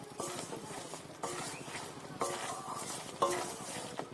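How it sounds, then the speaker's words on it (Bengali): Pumpkin morabba cooking down in a pot, stirred continuously with a spoon that scrapes the pot in a steady, repeated rhythm over soft bubbling, close up with no talking. "অনেকক্ষণ ধরে নাড়তে হবে, না নাড়লে হবে না।"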